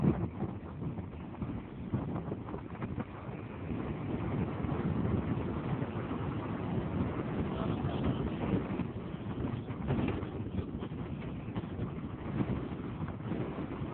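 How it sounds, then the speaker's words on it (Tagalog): Strong wind buffets the microphone at a rocky shore, a steady low roar running throughout with gusty swells and no talk. "Lakas ng hangin dito."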